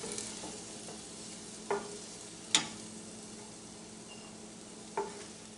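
Dry fruits for sheer khurma fry gently on low heat, a quiet, even sizzle broken by three sharp utensil taps spaced a second or more apart, with no voices.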